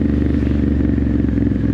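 A Triumph Scrambler 900 motorcycle rides at night down dark streets, its engine a steady, close, loud drone with a continuous low rumble throughout, with no voices.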